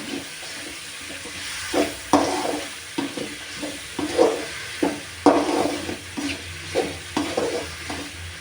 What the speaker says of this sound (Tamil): அவரைக்காயை போட்டு நல்லா வதங்கணும் காய் அந்த பச்சை வாடை போகிற மாதிரி வதங்கணும்